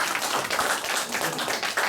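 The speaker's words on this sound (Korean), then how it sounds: "박수." A lecture-hall audience at an ultrasound medical class claps, a steady patter of many hands lasting a couple of seconds.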